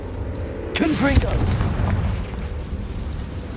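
Confringo, the fire spell in Hogwarts Legacy, going off as a heavy booming blast with a sharp crack at the start and a rumbling tail, loud and close, with a character's voiced cry near the burst.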